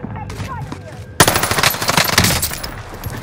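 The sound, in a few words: machine gun fire, from video game Warzone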